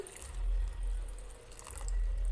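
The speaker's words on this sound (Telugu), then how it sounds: "ఒక కప్పు వాటర్ అయితే పోస్తున్నా" Water pours steadily into a bowl close by, a soft continuous splashing with a low rumble underneath.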